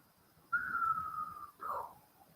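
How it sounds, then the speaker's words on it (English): A single faint whistle holds one long steady note, then breaks into a short second phrase. "Whistling."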